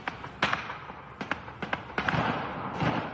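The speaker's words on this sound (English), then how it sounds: "The sound of gunshots pierced the air" Several sharp cracks go off in irregular bursts, some doubled, ringing out against steady background hiss.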